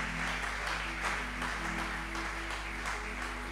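A church congregation applauding to acclaim the Lord during a worship service, a steady, dense wash of clapping heard from a distance at low volume, with no distinct individual claps standing out.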